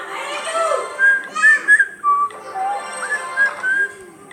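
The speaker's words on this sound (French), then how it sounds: "Ça vous gêne quand je siffle?" A person whistles a lively, wandering melody of short rising and falling phrases, close and fairly loud, with no talking over it.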